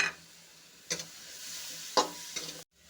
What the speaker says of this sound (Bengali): মশলাটা ভালো করে কষিয়ে নিলাম।